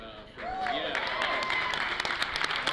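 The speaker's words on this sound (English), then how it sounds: "I mean, you don't have to clap." An audience at a live comedy show breaks into steady applause, dense clapping filling the room while a voice briefly carries over it near the start.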